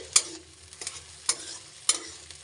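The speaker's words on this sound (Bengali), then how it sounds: "ভালো করে মশলাটাকে কষিয়ে নেব" A metal spoon scrapes spice masala around a hot pan for muri ghonto, giving three sharp, evenly spaced scrapes over a low, steady frying sizzle, close and moderately loud, with no talking.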